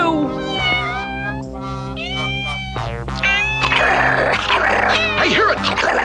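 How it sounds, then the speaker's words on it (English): Cartoon cat meowing several times in a high, wavering voice, mixed with music and other animated sound effects in a cartoon scene, loud and close throughout. "I hear it! I hear the little kitty cat!"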